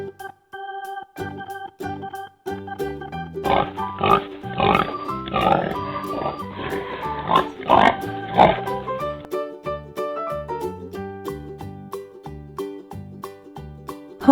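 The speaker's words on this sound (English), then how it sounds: "Pig." A farm pig grunts and snorts in a run of short, rough bursts over several seconds. Light background music plays steadily underneath.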